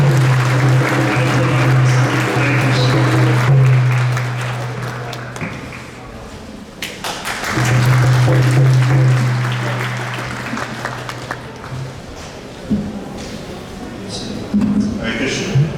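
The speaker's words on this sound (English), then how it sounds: "let's give a big round of applause and welcome him" Audience clapping at an ISKCON temple's Sunday lecture program, welcoming a speaker, mixed with a loud sustained low tone that cuts out and returns, and voices talking over the noise.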